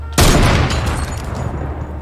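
A heavy assault rifle in a video game fires a loud, sudden burst that rings out into a dense, sustained rumble and reverberating echo, close and dominant, with no talk.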